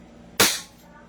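A snub nose revolver fires a single sharp shot, loud and close, with a quick decay into quiet room tone.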